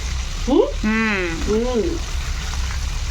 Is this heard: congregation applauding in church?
no